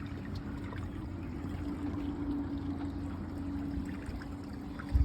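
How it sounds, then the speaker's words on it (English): River at Arashiyama flowing steadily, a soft continuous rush with a faint constant hum, heard from a distance, with a brief bump near the end. "That's the river."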